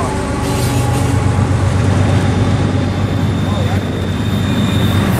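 An eastbound freight train passes through Caliente on Tehachapi Pass with a loud, steady rumble and droning engine hum. Faint tonal whines sit over the noise throughout.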